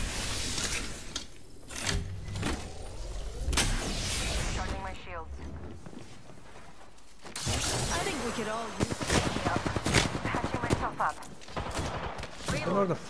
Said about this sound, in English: Where the fuck I'm getting shot from?